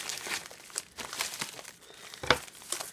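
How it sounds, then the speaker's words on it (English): Crinkling and rustling of a shipping package cut open with scissors, a few sharp snipping sounds, close and fairly quiet, no speech. "I'm just going to use some scissors and cut it right open"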